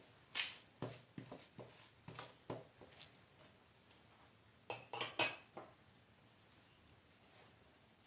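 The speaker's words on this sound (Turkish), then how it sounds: "Tekrardan karıştırıp." A spoon stirs a cake and ketchup mixture, giving a quiet, irregular series of clinks and scrapes against the bowl, bunched in two spells with a short pause between, then falling still.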